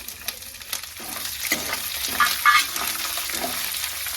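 Peanuts, chana dal and curry leaves fry in hot oil in a pan, giving a soft steady sizzle broken by scraping stirs and a few sharper pops.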